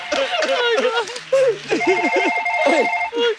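A phone ringtone chimes in steady melodic tones on a comedy show stage. It is mixed with people talking and audience noise, growing clearer in the second half.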